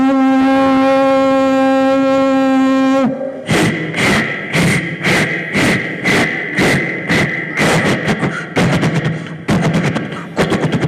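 A performer's voice imitates a passing train at a poetry gathering: a long steady horn-like hum first, then a loud, rhythmic series of chugging puffs that keep a regular beat and speed up slightly toward the end.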